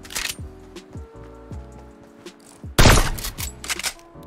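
Fortnite gunfire rings out: a run of sharp shotgun and assault rifle shots fires in quick succession, with one especially loud, heavy blast about two-thirds of the way through.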